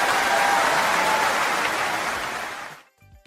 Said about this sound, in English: Boom! Standing ovation right there.